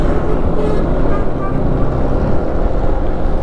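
A car engine idles at a steady, even RPM after an idle fault was fixed, a loud, close, continuous broadband drone with no rising or falling.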